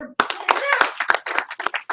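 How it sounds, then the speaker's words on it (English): A group of children and adults clapping hands in a classroom or online class, several uneven claps in quick succession mixed with voices talking over them. "So everybody give him one clap, two claps,"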